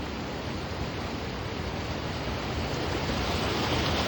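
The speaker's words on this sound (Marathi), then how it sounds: "बंधारा फुल भरून वाहतोय एकदम फुल खूपच स्पीडनं पाणी" Floodwater after heavy rain rushes fast over an overflowing check dam: a loud, continuous, dense roar of churning water, unbroken and close, with no voices.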